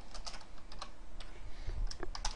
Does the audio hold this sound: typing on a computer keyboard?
yes